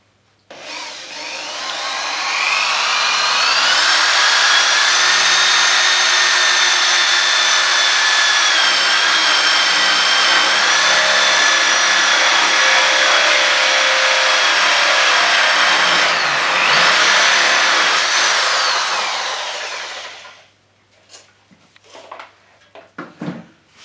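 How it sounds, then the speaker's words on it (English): A power drill whines loudly and steadily as it bores into timber for about twenty seconds, then cuts out, followed by brief clattering and handling noises. "So let's drill a hole."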